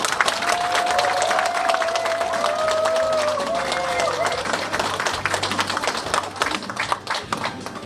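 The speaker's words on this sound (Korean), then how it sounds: "큰 박수로 모시겠습니다." An audience claps steadily to welcome a guest speaker at the opening of a Korean election campaign office, with crowd noise and a voice briefly heard over the sustained applause.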